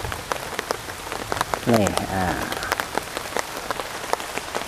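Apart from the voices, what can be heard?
heavy rain falling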